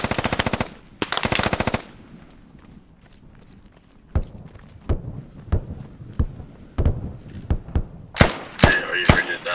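Machine gun fire in the video game Squad, with two dense sustained automatic bursts up front, then a string of separate single shots and distant cracks that build into sharp, loud reports near the end.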